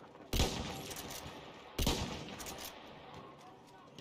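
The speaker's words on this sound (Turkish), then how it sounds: "B yoluna çıkanların kafalarına mermi yağdırıyorum" Gunfire in the World War I shooter Battlefield 1 on the Samogneux map: two sharp, loud shots roughly a second and a half apart, each trailing into a rattling echo over a bed of distant battle noise.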